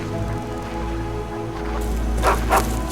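Dogs barking on a small, messy one-building farm in Skyrim, with cows nearby; two sharp barks rise late over a steady low rumble of game ambience.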